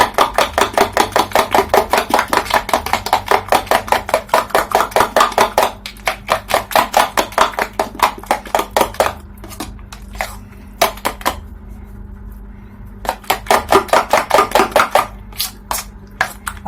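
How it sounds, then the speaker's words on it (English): A soaked rice mixture for a homemade hair mask is beaten in a bowl, making fast, even, loud clinking strokes of a whisk against the bowl that pause briefly and then resume, with no voices. "You can use a whisk to beat this,"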